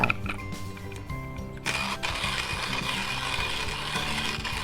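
A motorized coffee grinder grinds about thirteen grams of beans, whirring steadily, its buzzing drone jumping louder partway through and holding a dense, even roar to the end.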